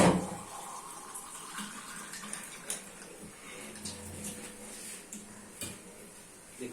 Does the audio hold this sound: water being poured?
yes